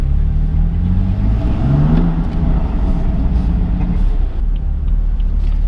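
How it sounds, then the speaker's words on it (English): A BMW M4 Competition with an M Performance exhaust revs loudly close by, its deep engine note rising and falling in strong surges with no talk. "Yes, M Performance exhaust system for the win."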